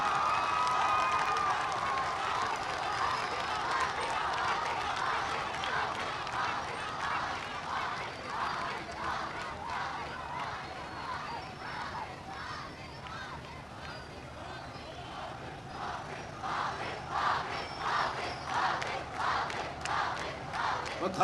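Crowd at a Jamaat-e-Islami protest sit-in chanting slogans in rhythmic bursts, a steady dense roar of many voices with regular pulsing shouts throughout.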